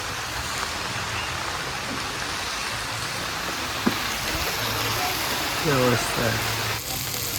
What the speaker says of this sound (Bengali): এসে জোরে বৃষ্টি নেমেছে